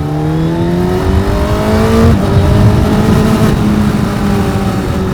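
A 2025 Honda CB1000 Hornet SP motorcycle engine revs up through rising harmonics, shifts near the midpoint and keeps pulling hard, loud and close with steady wind noise and no talk.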